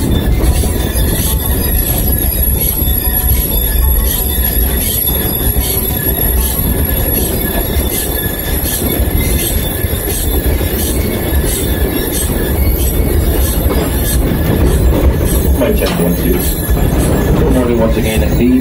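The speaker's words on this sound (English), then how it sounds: "We're going to kickstart our tour with a steam train ride." Heritage steam train ride on the St Nicholas Abbey railway in Barbados, with a steady loud rumble of rolling wagons, squealing wheels and rail clatter running throughout, while voices speak faintly underneath.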